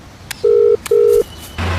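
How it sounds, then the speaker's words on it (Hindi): Two long electronic tones of a phone ringback, each about a third of a second, separated by a short gap, with faint clicks around them. "रिंग जा रही है सर।"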